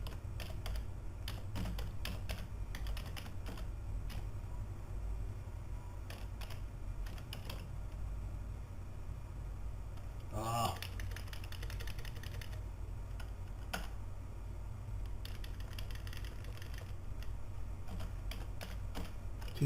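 Quiet, close tapping of keys on a computer keyboard in irregular bursts and pauses, with a faint steady hum beneath and a few louder clicks.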